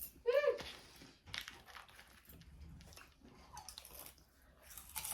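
Cheetos chip bitten and crunched while eating, a few sharp crisp crunches up close with chewing noises in between, and a voice briefly speaking over it.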